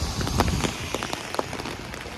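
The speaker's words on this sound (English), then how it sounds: "I hope the sound on the umbrella is coming through loud and clear." Rain patters steadily on an umbrella during a walk in Howard Beach, Queens, New York, a dense close drumming with scattered sharper drops.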